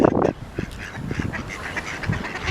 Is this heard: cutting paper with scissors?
no